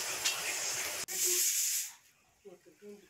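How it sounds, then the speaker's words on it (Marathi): A pressure cooker whistles and vents steam while mutton cooks at a campsite, a loud hissing burst that rises sharply, holds for about a second, then cuts off, followed by faint background voices. "आपल्या कुकरनं पण शिटी दिले म्हणजे आपलं मटण उमलं आहे"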